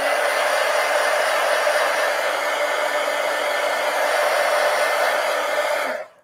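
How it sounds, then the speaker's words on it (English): A hair dryer blows steadily to dry paint on a coloring book page, a loud, even whir running without a break for about six seconds before it switches off and cuts out. "Let's go ahead and dry this."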